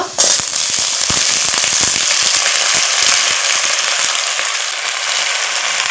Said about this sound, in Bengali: এখন কেটে রাখা পুঁই শাকার আলুগুলো দিয়ে দেব